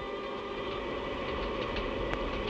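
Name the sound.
electric train with overhead pickup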